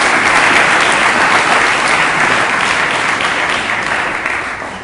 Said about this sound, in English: I believe I have to give a round of applause to you